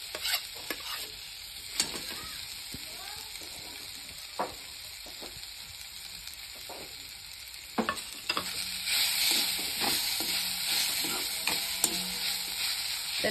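Grated raw mango frying in ghee in a pan, a steady close sizzle broken by irregular scraping and clacking strokes of a spoon stirring, with no voices.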